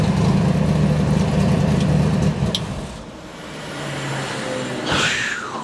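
A race car engine idles smoothly and steadily after its mixture was leaned out, a loud low rumble that drops back slightly midway, with a brief higher whine near the end and no talk.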